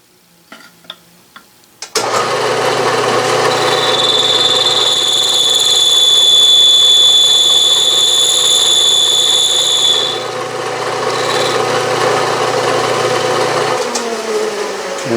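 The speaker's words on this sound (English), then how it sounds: "I've already touched off and fed in that amount in the Y-axis and I'll mill that flat." Bridgeport milling machine milling a gear rack flat, a steady loud mechanical whine with a high tonal ring that holds for several seconds after some clicks, then drops slightly and winds down.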